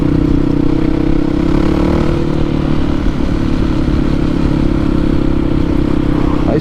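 Yamaha WR450F enduro motorcycle with a new exhaust baffle, idling with a steady deep burble that stays loud and close throughout, with no talk over it.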